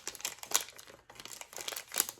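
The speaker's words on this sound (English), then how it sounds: "I have these layered stickers." Layered butterfly stickers are handled up close, giving soft, quiet crinkling and rustling of paper in short irregular bursts, with no talking.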